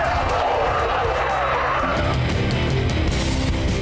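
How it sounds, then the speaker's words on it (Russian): A Lada Vesta SW Cross with stability control switched off skids and spins on a test drive, a loud continuous rush of tire and engine noise filling the whole stretch without pause. "резко занесло и нас просто развернуло вокруг своей оси, вокруг двигателя"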